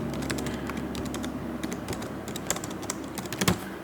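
Keys on a computer keyboard tapped in quick irregular bursts while personal details are entered into a Montana property tax rebate form online, close and steady for about four seconds, with no talking.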